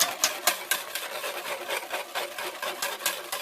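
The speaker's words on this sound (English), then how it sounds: "I'm going to switch to a whisk at this point. You just want to whisk that in." Milk being whisked for homemade yogurt, heard as a close, rapid rhythmic scraping and sloshing of a whisk against a bowl, repeating steadily about three to four strokes a second, with no talking.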